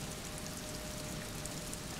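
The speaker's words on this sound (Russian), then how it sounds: "шевелимый морским ветром, и пригибается под тяжестью дождя." Steady, dense rain in the video game Disco Elysium patters evenly on a surface, a continuous hiss with no other sounds.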